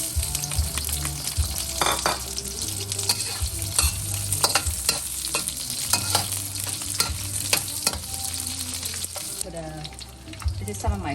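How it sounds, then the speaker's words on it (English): Sausage fries in a pan with a steady, loud sizzle and crackle, broken by scraping and stirring sounds throughout. "We're gonna cook the sausage first"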